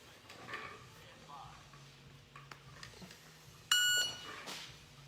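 A shot timer gives one sharp electronic beep partway through, loud and close against a quiet room with faint handling noises.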